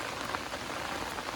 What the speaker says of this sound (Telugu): వర్షం మామూలు పడట్లేదు.